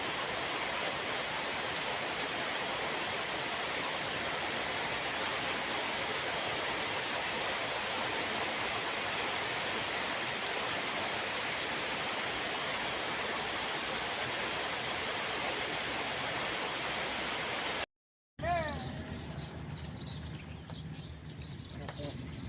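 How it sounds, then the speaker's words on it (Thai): Winter rain falls in a continuous, dense hiss for most of the stretch, then cuts out briefly before quieter, patchier sounds resume. "ฝนตกในฤดูหนาว ฟ้าร้องด้วยนะคะ"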